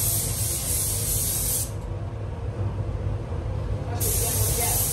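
A spray gun lays a coat of paint on a Colt CZT during a car respray, giving a steady loud hiss that briefly softens in the middle before resuming at full strength.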